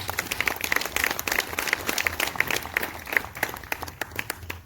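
A church congregation bursts into sustained applause, many hands clapping together in a dense, steady roar that carries on without pause.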